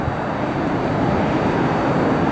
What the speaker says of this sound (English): Airbus A321 heading to the mega hub that is Atlanta's Hartsfield-Jackson International, ATL.